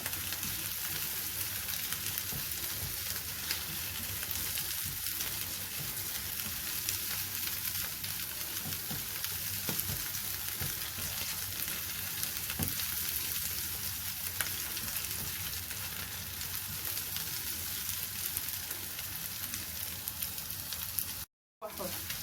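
Chicken stuffing sautéing with onions in a pan, a steady close sizzle and crackle that runs evenly throughout with faint stirring, cutting out briefly near the end.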